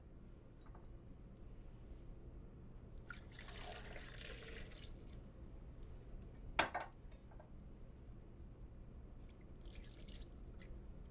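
Tequila and Grand Marnier are poured into a Vitamix blender jar in a kitchen, a faint splashing pour in quiet bursts with a sharp clink partway through.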